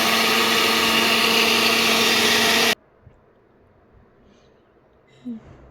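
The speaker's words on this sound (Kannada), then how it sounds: "ನೋಡಿ ಈ ರೀತಿಯಾಗಿ ಪೌಡರಾಗಿ ಗ್ರೈಂಡ್ ಮಾಡ್ಕೊಳ್ಬೇಕು" Blender grinding roasted curry leaf mixture into powder, a loud steady motor whir running close for under three seconds, then cutting off abruptly into near silence with a small clunk.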